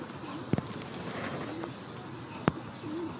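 Pigeons cooing in a loft, soft low coos repeating at intervals with a couple of sharp clicks or wing taps, fairly quiet against a steady background hum.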